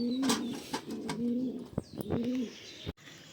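Pigeons cooing nearby, repeated low throaty coos in a loose rhythm, with a few faint chirps and knocks around them.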